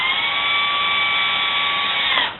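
A power drill drives short screws while building a Creeper Clone, a steady high whirring motor held for about two seconds before winding down, close and loud with no talk.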